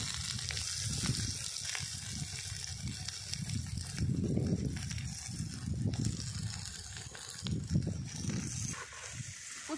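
Boiled potatoes being mashed into masala frying in oil in a kadhai, a steady close sizzle with repeated soft mashing and scraping thumps, no talking.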